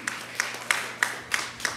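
A church congregation clapping together in praise, six steady rhythmic claps about a third of a second apart, moderately loud in a reverberant hall.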